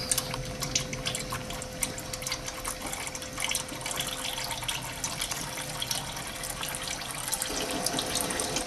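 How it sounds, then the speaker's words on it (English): Engine oil draining from the sump of a 2006-2010 VW Passat 2.0 TSI gives a steady trickling, splashing flow into a container, continuous and fairly close, with no talk. "now most of the oil has drained"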